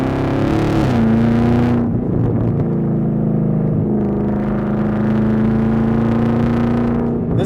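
A supercharged LT4 V8 in a Chevrolet Camaro ZL1 1LE with a loud exhaust roars on a mountain canyon road near San Diego. It revs hard, drops back, then holds a steady droning pull before climbing again.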